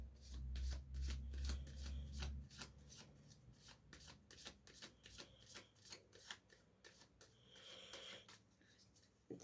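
An oracle card deck is shuffled in a steady run of crisp, rapid riffling flicks, close and fairly quiet, with a soft low hum beneath.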